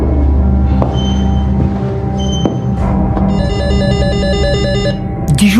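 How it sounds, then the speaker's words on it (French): A telephone rings repeatedly in a tense true-crime account of the Strasbourg killer case, an electronic ringtone pattern of several bursts over a steady background bed, loud and alone with no talking. "le téléphone sonne à nouveau"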